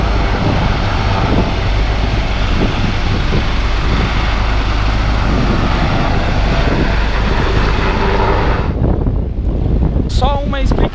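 A Bell 407 helicopter lifts off vertically, its loud, steady rotor and turbine roar filling the space up close before cutting away near the end, where a voice speaks briefly.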